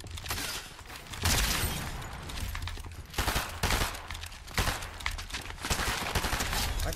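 Rapid bursts of video game gunfire, loud and close, with automatic volleys repeating in clusters across the stretch and a steady rumbling bed beneath them.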